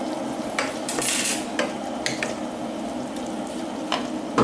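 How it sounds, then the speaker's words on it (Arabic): Liver skewers simmering in sauce in a pan during an Eid kitchen in Spain, a steady bubbling sizzle with occasional clinks of a utensil against the pot, close and alone. "هاد جوج ديال القطيبات اللي عملت ديال الكبده، غادي نخويهم فيها ونخليهم يغليو فيها"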